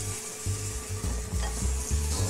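A pork tenderloin with apricot glaze sizzles on a hot grill, a steady close crackle with a few soft scraping or brushing touches, no voices.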